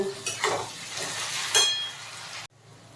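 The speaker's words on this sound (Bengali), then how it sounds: "আর একটু চিনি দেব যাতে পেঁয়াজটা তাড়াতাড়ি নরম হয়ে যায় এবার ভেজে নেব" Onions frying with sugar in a pan make a steady close sizzle, with a few stirring scrapes and utensil clinks before the sound drops away abruptly near the end.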